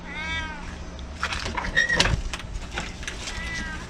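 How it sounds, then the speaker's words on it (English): A small kitty meows near a screen door: one drawn-out meow, then a shorter, higher one a second later, fairly close. Faint household sounds fill the gaps. "She's just a little kitty."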